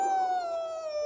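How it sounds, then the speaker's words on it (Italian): A wolf's drawn-out, slightly falling howl in a children's farm song rings out loud and steady for about a second. "No, Bartolito, così fa un lupo."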